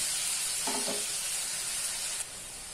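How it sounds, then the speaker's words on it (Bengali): Steady hiss of tomato and green chili paste frying in hot oil, with a brief soft clink partway through; the sizzle drops slightly near the end. "এটা টমেটো কাঁচা লঙ্কা পেস্ট প্রথমে আমি চিকেন ভাজা তেলের মধ্যে দিয়ে দিলাম।"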